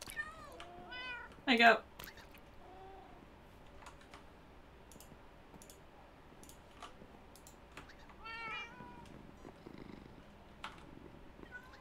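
A pet cat meows in short, clear cries near the start and again partway through, with quiet keyboard typing and a person speaking briefly in the background of an indoor room.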